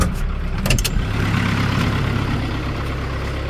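A farm tractor engine running as it drives in through a pasture gate to feed cattle, a loud, steady low-pitched diesel drone close by, with a few brief clanks early on and no talking.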